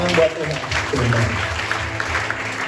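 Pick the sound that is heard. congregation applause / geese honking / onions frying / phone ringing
congregation applause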